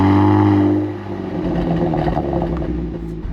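A Genesis G70 fitted with a Borla exhaust idles loudly nearby, a deep steady drone that eases off slightly after the first second and then holds with a rumbling burble.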